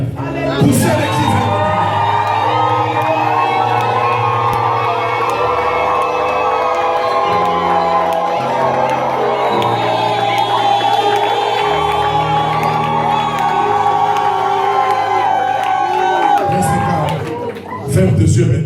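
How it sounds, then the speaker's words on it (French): A church congregation shouting loud sustained cries in worship, a dense crowd roar of whoops and voices over organ-like tones and music, continuous for most of the time before fading at the end. "Poussez les cris de l'Éternel."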